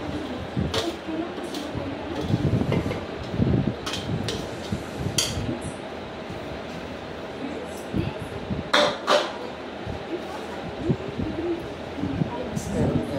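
Mango pieces tumbled with homemade pickle masala in a pot, giving scattered scrapes and clattering knocks over a steady rustling background, with occasional louder clinks.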